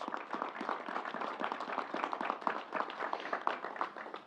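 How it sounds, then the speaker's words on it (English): Applause at a state COVID briefing in Syracuse for the State Fair team and National Guard, a dense steady patter of clapping from a modest crowd, fairly faint and continuous throughout. "Let's give the whole team at the State Fair and the National Guard a round of applause."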